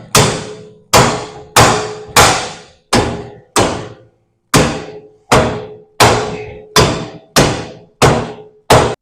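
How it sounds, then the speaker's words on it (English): Rubber mallet knocking wooden joints tight in a garage woodworking shop, twelve sharp, loud thuds struck at a steady, fairly quick rhythm with brief pauses, no talking. "Rubber hammer, y'all."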